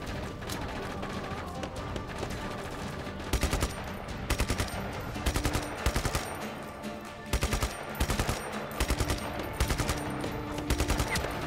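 Dense, steady automatic gunfire in the video game Just Cause 3, with recurring clusters of sharp, rapid shots layered over a constant backdrop of loud combat noise.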